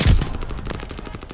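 An MP40 submachine gun fires in a Call of Duty game, a loud, close, rapid burst of steady shots that fades slightly over its length.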